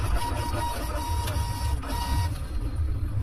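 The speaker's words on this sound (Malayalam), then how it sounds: "ബില്ല് വളരെ ക്ലിയർ ആയിട്ട് പ്രിന്റ് ആയത്." A dual receipt and label printer runs off a bill with a steady, close mechanical whir and buzz lasting a few seconds, with small clicking pulses along the way.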